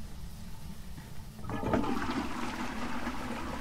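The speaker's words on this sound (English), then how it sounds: "the water's running, I think, in here" Running water in the Phasmophobia video game, a steady rushing hiss that swells after a soft start and continues, no talk.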